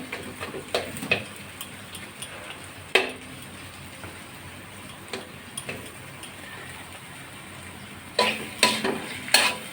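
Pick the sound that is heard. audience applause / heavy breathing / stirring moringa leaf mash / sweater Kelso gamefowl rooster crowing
stirring moringa leaf mash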